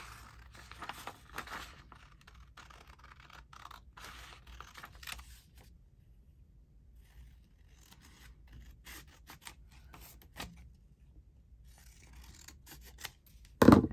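Quiet, close snipping of scissors cutting paper in short irregular bursts, with soft rustling between cuts.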